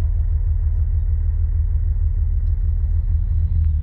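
A car engine in the video game Missing Hiker idles with a loud, steady low rumble throughout, close and unbroken.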